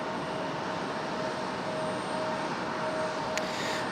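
A Boeing 777 jet airliner at Raleigh-Durham International Airport, heard as a steady, broad engine roar with a faint whine, continuous and moderately loud across the whole stretch, no talk.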